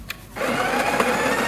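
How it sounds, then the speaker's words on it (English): A coffee machine grinding beans: after a brief quiet moment, the grinder starts and holds a loud, steady, gritty whir to the end. "So we can grind the beans."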